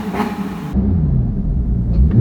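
A Porsche GT3 fitted with a Sharkworks exhaust, side mufflers in place and the valve removed so it stays loud, revs up while parked, a deep continuous engine roar that climbs and holds with rising pitch, close and loud throughout.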